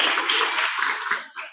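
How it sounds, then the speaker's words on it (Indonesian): Audience applause at a children's seminar in Indonesia, a dense patter of many hands clapping together for about a second and a half, steady and fairly loud before trailing off at the end. "Oh ya, tepuk tangan."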